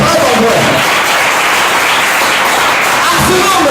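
A church congregation applauds during a Spanish-language sermon, with steady dense clapping filling the whole clip and a voice speaking over it.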